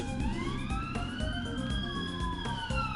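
Several police car sirens from the Ace Attorney Investigations 2 video game wail together in overlapping rising and falling tones, steady and moderately loud over game music with low thumps.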